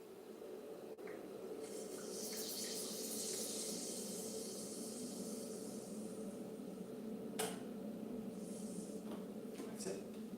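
Tap water runs steadily into a kettle being refilled to make more hot water, a constant hiss and splash at moderate level with faint background hum.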